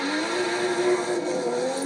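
Toyota GR Supra engine revving in the racing video game Forza Horizon 5, a loud sustained high-pitched engine whine holding steady and slightly rising, with no talk.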